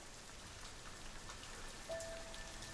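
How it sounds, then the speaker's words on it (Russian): Dense, steady rain pouring onto a building, pattering on surfaces all around, a constant wash of drops with no voices. "Дождь продолжает сверху заливать здание."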